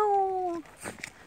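A cat gives one drawn-out meow, close and fairly loud, with a falling pitch that stops abruptly; faint rustling follows.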